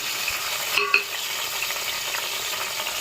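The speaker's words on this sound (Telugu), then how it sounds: "ఆయిల్ వేడెక్కిందండి. ఇప్పుడు అందులోకి ఆనియన్స్, కరివేపాకు, ఒక టమాటా, ఎండుమిర్చి వేసుకున్నాము." Onions, curry leaves, tomato and dried chillies fry in hot oil, giving a steady loud sizzle with a brief stirring clatter near the start and no talk.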